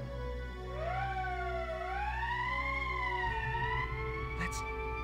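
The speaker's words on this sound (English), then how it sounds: "That's the emergency siren." A wailing electronic siren from the video game Valkyria Chronicles rises and falls in pitch over a steady low hum, continuous for several seconds with a brief high tone near the end.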